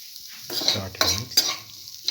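Bottle gourd stew with salt and turmeric being sautéed and stirred in a pan, a soft sizzle under a few scraping stirs of a utensil, close and brief.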